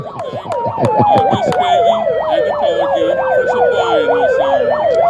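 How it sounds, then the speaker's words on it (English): A loud emergency siren wails in a fast rising-and-falling pattern, close by at a street vigil in Washington, DC, after a brief burst of horn-like blasts at the start. "That siren is specifically for my J6er."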